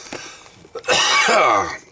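A short throaty cough followed by a longer, rasping hacking burst, close and loud, with no speech.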